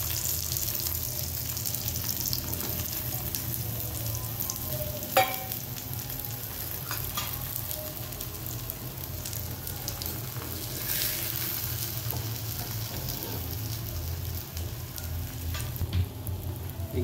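Pumpkin bhakri flatbread frying in oil on a hot pan gives a continuous close sizzle with crackling and a few sharp spits, and no talking.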